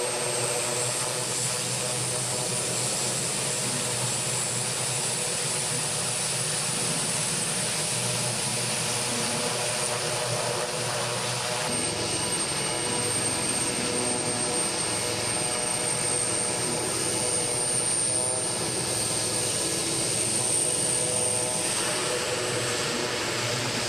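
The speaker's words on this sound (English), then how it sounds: "Polish Navy brought a far smaller maritime patrol aircraft, an M28 Brisa 1R from the base at Gdynia." A Polish Navy M28 Bryza 1R maritime patrol aircraft, a small twin-turboprop, drones steadily overhead at an airshow in Malta, its engine tone holding loud and continuous with a slight shift partway through.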